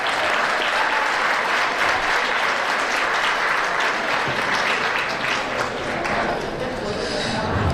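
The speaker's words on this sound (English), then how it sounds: "let's give a rousing applause to all the other VIPs" Sustained, dense applause from a large gala audience at an annual unity gala, steady and loud throughout with a crowd murmur beneath it.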